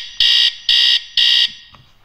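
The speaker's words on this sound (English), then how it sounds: "trigger the alarm by pressing the plus button" A bed-wetting alarm set off with its plus button sounds three loud, shrill electronic beeps at an even pace, each lasting about a quarter second, before it falls quiet.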